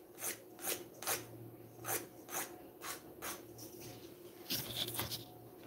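Hand nail file rasping across fingernails during a manicure, in short irregular strokes with brief pauses, quiet and close, with no talking.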